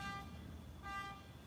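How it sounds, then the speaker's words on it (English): A neighbor's car horn honks twice in the distance, two faint toots separated by a short pause, with no talking. "hearing your neighbor's car go off in the background"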